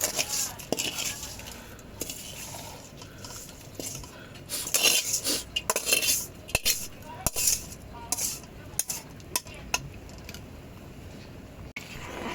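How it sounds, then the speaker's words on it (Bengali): A spoon stirs spiced rice and masala in a pot for potato pulao, making close, irregular scrapes and sharp clinks against the metal, with a soft voice faint in the background. "দেখো বন্ধুরা, এইভাবে মশলাটাকে দিয়ে ভাতটাকে এইভাবে নাড়িয়ে দেব।"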